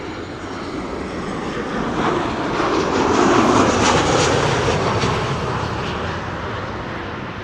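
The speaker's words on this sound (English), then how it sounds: "This is Transavia flight 5628 arriving from Palma de Mallorca, a 737-800" A Transavia Boeing 737-800 on arrival at Amsterdam Schiphol, its jet engines roaring steadily, swelling to a peak midway and then easing slightly as it passes fairly close, with no voices.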